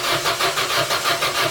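An old car engine cranking but failing to start, a loud, close starter churning in an even repeating pulse that never catches, with no voices over it.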